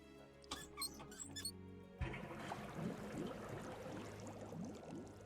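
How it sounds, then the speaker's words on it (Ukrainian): Water gushes out after a valve is opened in the puzzle game Forgotten Places: Regained Castle, with a steady trickling and pouring rush that follows a short musical cue and continues to the end. "Пустив всю воду."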